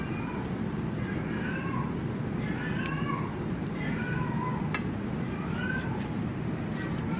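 A cat meows repeatedly in short, rising calls over a steady background rumble that suggests nearby road traffic.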